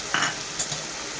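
Ghetkul leaf paste frying dry in a pan with fried garlic and onion: a short, steady sizzle with a couple of quick scraping strokes of a spatula, close and fairly loud, with no voices.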